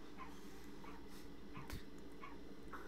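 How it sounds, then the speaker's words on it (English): A dog in the background gives several faint whimpers and yips at an even pace over a steady low hum. "There goes my dog."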